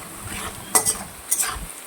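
Chopped onion frying in a pan with whole garam masala is stirred, giving a soft steady sizzle broken by two sharp scraping clinks of a utensil against the pan, close and quiet, without any voices.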